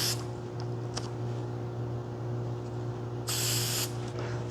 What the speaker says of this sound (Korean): 이 글자를 이렇게 찍은 다음에 이 스프레이 본드를